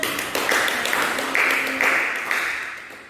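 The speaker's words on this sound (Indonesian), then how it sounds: "Ayo tepuk tangan." Classroom applause following a poem read aloud by a pupil, a steady patter of clapping hands from a small group lasting a few seconds before tapering off.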